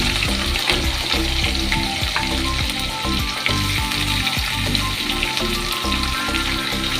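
Chopped onion frying in a pan with green chillies and spices, a loud continuous close sizzle with crackling pops and occasional stirring scrapes, and no one talking.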